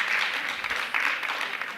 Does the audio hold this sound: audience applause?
yes